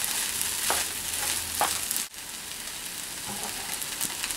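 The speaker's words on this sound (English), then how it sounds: "continue to stir" Fried rice with mixed vegetables and black pepper sizzles steadily in a pan as it is stirred, a close, continuous frying hiss that cuts out abruptly for a moment partway through, then resumes.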